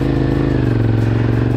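A Cagiva Raptor motorcycle pulls away with a loud, close, steady engine drone that climbs slightly in pitch as it accelerates, with no voices.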